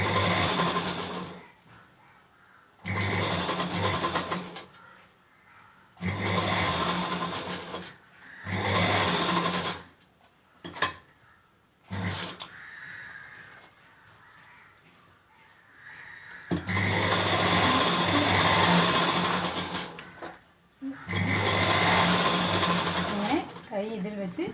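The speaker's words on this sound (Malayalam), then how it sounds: "ഇവിടെ നിന്ന് 1/2 ഇഞ്ച് വീതിയിൽ ഇങ്ങനെ തയ്ക്കണം." Sewing machine stitching a half-inch seam to attach a sleeve on a lehenga blouse, running in repeated loud bursts of a few seconds each with short pauses between, a voice talking quietly in the gaps.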